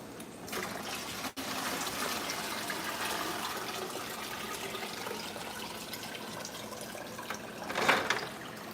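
Water pours and splashes steadily into a drain during a drought, a soft continuous gush with a brief gap and a slightly louder surge near the end.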